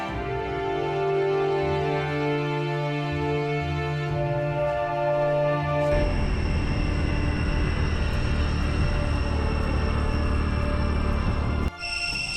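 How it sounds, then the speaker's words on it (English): Dense, steady cicada drone from the jungle trees around the Angkor Wat temples in Cambodia, a loud continuous buzzing wall of sound that shifts texture midway and fills the whole stretch without any talk. "excuse the noise, that's all the cicadas in the trees."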